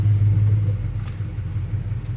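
A 1977 GMC truck's engine rumbles low and steady close by while the truck is driven slowly, a constant deep drone with no talk.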